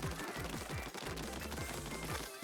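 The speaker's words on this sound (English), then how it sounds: "I'm just gonna watch the fireworks." Splatfest fireworks in Splatoon 3 crackle and pop in fast, dense bursts over a steady low rumble, loud and continuous throughout.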